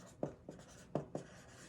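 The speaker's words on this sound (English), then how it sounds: "And then I take a Sharpie and I write Cambozola, the date created," A Sharpie marker writes on the wrapping of a Cambozola cheese, giving four short scratchy strokes in a quiet room with no talking.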